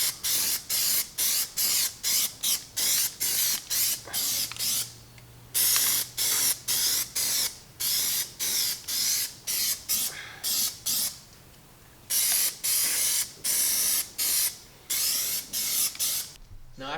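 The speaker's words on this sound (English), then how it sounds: "you can start spraying again" Aerosol can spraying PlastiDip onto a car wheel in a long run of short hissing bursts, each about half a second, with a few longer sprays and brief pauses, close and steady.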